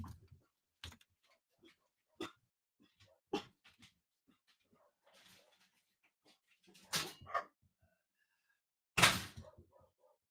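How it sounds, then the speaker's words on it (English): Dogs barking in scattered, separate bursts with occasional whimpers as a car pulls up at a home. The loudest bark comes near the end, with long quiet gaps between calls. "our dogs know her car, so they're raising Cain."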